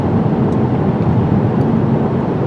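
Steady, loud low rumble of tire and wheel road noise inside a moving 2021 Mazda 3 Turbo sedan, a constant droning roar with no talking.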